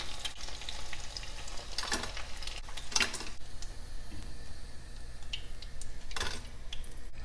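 Chicken pieces fry in oil for a Chicken 65 gravy, a quiet, steady sizzle with occasional sharp clicks of utensils against the pan, close and with no talk.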